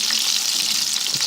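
Calamari rings sizzle steadily in hot frying oil, cooked restaurant-style until crisp; a dense, close, continuous crackle with no talk.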